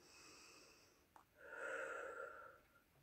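A slow, faint breath drawn in through the nose during a face yoga exercise, airy and hissing, with a brief click before a fuller inhalation swells and fades within a few seconds, no talking.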